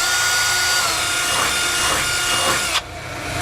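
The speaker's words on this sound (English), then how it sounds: "I'm going to start out using a small drill bit just so I can get a pilot hole started" A drill bores a small pilot hole into the frame of a 2019 Winnebago Advent, whining loudly and steadily with a harsh hiss, then cuts off abruptly near the end.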